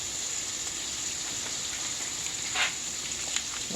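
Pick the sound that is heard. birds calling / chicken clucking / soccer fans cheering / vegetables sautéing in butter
vegetables sautéing in butter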